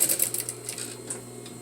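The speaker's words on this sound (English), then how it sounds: "I'm going to back tack" A sewing machine back tacks at the start of a seam, giving quiet, quick rhythmic needle ticks over a low motor hum.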